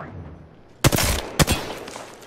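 Gunfire in a first-person shooter video game rings out as two loud, close bursts about half a second apart, each a sharp crack trailing into a brief rattling roar.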